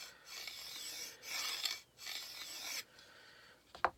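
A tracker-style knife is drawn back and forth across a diamond sharpener, making close, dry rasping strokes in an uneven rhythm of about five passes, with short pauses between them and no talking.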